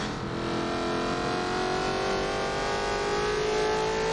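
A race car engine revs hard during qualifying for a 2019 racing series, a steady loud drone with rising pitch that holds throughout and has no voices over it.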